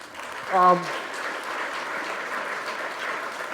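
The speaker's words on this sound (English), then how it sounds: "that deserves a round of applause as well" An awards luncheon crowd breaks into applause, a brief voiced whoop rising early, then sustained even clapping across the room.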